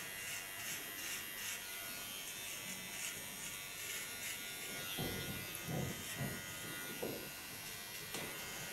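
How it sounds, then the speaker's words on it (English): A small electric hair clipper buzzes steadily and closely throughout while cutting hair into a punk-style bob, with slightly louder cutting bursts in the middle and no talking. "Go to my small clipper again. And you can see how sharp this tool is."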